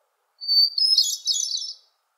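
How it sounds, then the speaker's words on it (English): A hermit thrush sings a single clear, high phrase, starting with a pure sustained whistle and breaking into a fluttering, ethereal trill, heard alone and fairly close against complete silence. "many people know the song of the hermit thrush"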